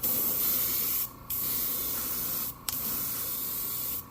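Spray can applies white paint to the belly of a glide fishing bait in three long, steady hissing bursts separated by short gaps, loud and close, with no voices.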